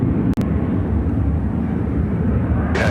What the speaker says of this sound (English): This is United Airlines 2683 taking off to San Diego on the 757-200.